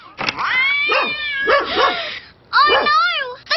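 An animated dog barks and yips excitedly while chasing cats, several sharp high-pitched barks in quick bursts with short gaps between them, close and loud.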